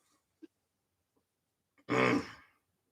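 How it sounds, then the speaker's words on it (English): A single harsh, rough cough bursts out close by after a few faint small sounds, lasting about half a second before fading. "I'm going to step over here and cough"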